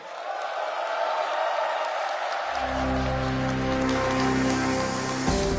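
A large crowd of overseas Koreans in China applauds steadily to welcome the South Korean president and first lady at a state-visit reception. The dense, continuous clapping is joined partway through by low, sustained musical tones.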